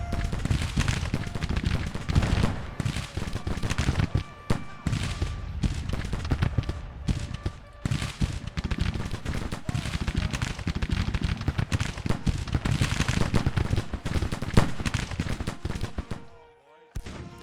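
Musket volleys in the Civil War strategy game Grand Tactician: The Civil War, dense rattling gunfire in rapid overlapping bursts that continue almost nonstop, loud and close, fading out just before the end.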